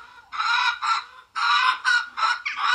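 A chicken clucks in quick, loud, close bursts, two short calls, a pause, then four more in rapid succession, alone against a quiet background.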